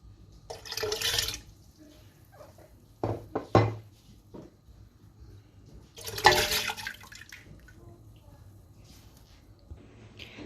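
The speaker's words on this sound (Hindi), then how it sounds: "अब हम इसमें दालें जो मैंने पहले ही भिगो के रखी हुई थी, उड़द की दाल और चना दाल, हम ये भी ऐड कर देंगे" Soaked urad dal and chana dal tipped into water in a cooking pot, heard as a few close splashing, pouring bursts with metallic clinks of a utensil against the pot between them.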